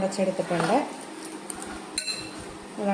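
Peeled plantain mashed with a utensil in a bowl: soft scraping, tapping and light clinks close by, with a voice briefly at the start and end.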